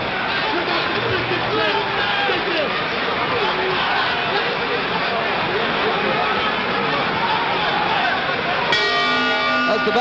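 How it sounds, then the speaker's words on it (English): Boxing bell clanging to end the fifth round of the 1964 Ali vs. Liston heavyweight title fight, heard near the end over a loud, constant arena crowd roar and announcer chatter. "That's the bell to end the fifth."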